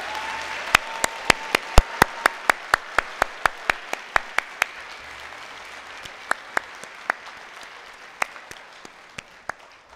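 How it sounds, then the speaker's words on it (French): A few scattered hands clap for new Faculty of Arts bachelor's graduates at a university graduation ceremony, sharp separate claps that are brisk at first and then thin out to occasional single claps, with a voice briefly audible at the start. "Applaudissons chaleureusement les nouvelles et nouveaux diplômés au baccalauréat de la"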